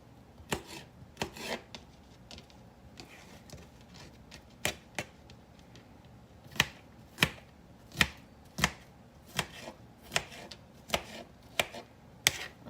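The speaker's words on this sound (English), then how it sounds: "let me get all this cucumber cut up" Cucumber with the peel left on being chopped on a board for a summer salad, a series of crisp knife strikes that start sparse and become a steady rhythmic run of clear, close chops.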